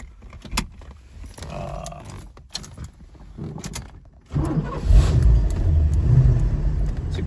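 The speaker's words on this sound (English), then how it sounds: "Thought I'd give you a drive video of my 76 TA." A 1976 Pontiac Trans Am with a non-matching-numbers Pontiac 400 V8 from an earlier non-smog car, heard from inside as it drives; quiet rustling and cabin noises at first, then the engine note rises loudly and holds a steady rumble.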